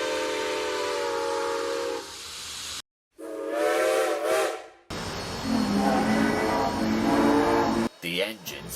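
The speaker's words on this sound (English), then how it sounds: "The engines whistled." Steam locomotives sound their whistles in several separate, sustained tonal blasts broken by short pauses. Voices are heard between and under the whistles.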